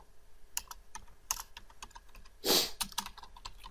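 Fingers type on a computer keyboard in quick irregular taps, with one brief louder burst of clatter midway.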